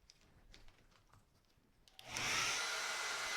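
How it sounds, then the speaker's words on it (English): A hair dryer set to medium heat clicks on about two seconds in after faint handling noises, then blows a steady, loud airy whoosh used to dry fresh paint on a china hutch. "now what I'm going to do, I'm going to get my blow dryer."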